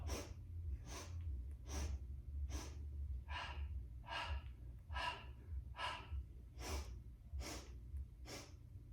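During a Pilates mat workout, about a dozen sharp, close breaths come in a steady rhythm, each a short forceful huff over a low background hum.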